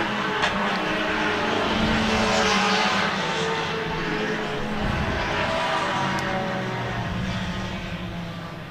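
Group S Porsche and Corvette sports cars pull away from a race start in a loud, continuous engine roar that stays close throughout and fades slightly at the end, with no clear separate passes.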